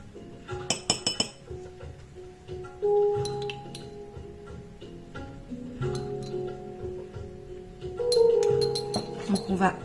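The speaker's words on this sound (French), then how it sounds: "on va mélanger petit à petit le lait" Spoon clinking against a bowl while oat milk is stirred bit by bit into a homemade herbal bath powder scrub, with scattered bright taps and scraping strokes, fairly close and quiet.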